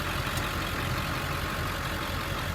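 A 2003 Ford F-550 XL utility truck with a 7.3 liter diesel engine idles steadily at close range, a continuous low rumble with an even rhythmic knock and no voices over it.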